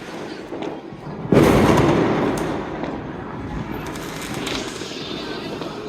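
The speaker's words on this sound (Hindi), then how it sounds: "पटाखे फोड़ने की आवाज़ आ रही थी" A firecracker goes off with a sudden loud bang during Diwali celebrations in Gurgaon, followed by a rumbling crackle and fainter pops in the distance.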